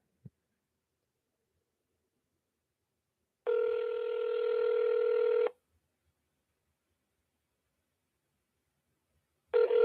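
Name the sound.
telephone dialing and ringing on an outgoing call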